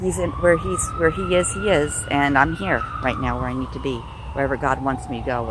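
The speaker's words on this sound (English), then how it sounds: "Pardon the ambulance in the back, because we are pretty close to the road." An ambulance siren wails from a nearby road, its rising and falling tone running continuously in the background while someone speaks over it close by.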